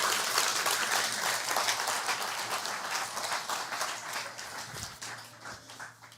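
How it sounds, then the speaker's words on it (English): A church congregation applauds the children, a continuous round of clapping that slowly thins and fades over several seconds, with a few low thumps near the end. "Let's give those kids another round of applause"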